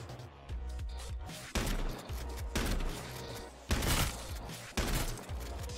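Shotgun fire in the online survival shooter H1Z1 during a close-range rush: several loud, sharp blasts spaced a second or so apart over continuous game ambience, with no talking.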